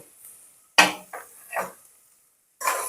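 Onions, grated ginger and two slit green chillies are stirred in a pan for a Punjabi-style mutton curry, giving a few sharp clanks and scrapes of a utensil against metal with quiet gaps between them and no talking.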